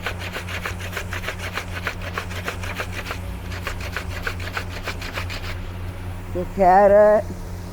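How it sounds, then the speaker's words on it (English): Close, rapid rhythmic scraping of ginger, carrot and potato in a food stall kitchen rasps on in steady strokes for several seconds before stopping, followed by a brief loud tonal sound, under a low background hum. "All this you have to scrape and put."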